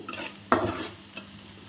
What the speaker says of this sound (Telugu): ఇప్పుడు క్యారెట్ ముక్కలు వేస్తున్నాను.